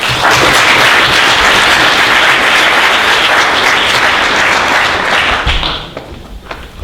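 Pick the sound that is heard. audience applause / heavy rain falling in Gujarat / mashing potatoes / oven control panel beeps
audience applause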